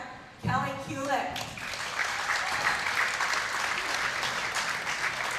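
Audience applause at a PWBA professional women's bowling tournament, steady clapping from a crowd sustained for several seconds after a brief announcer voice at the start.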